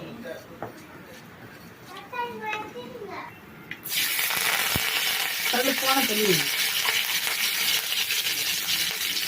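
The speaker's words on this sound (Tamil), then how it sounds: "கடுகு போட்டு ஜீரகம் போட்டு சூடாகும்." Mustard seeds, cumin and fennel seeds hit hot oil in a pan for tomato thokku and set off a loud steady sizzle and crackle, with people, including a child, talking in the background.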